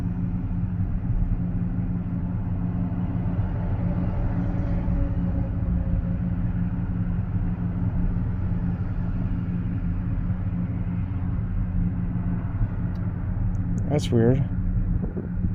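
A 2005 Ford F150 with a 5.4L V8, fitted with a new fuel pump and driver module, idles as a steady low rumble, with someone speaking briefly over it.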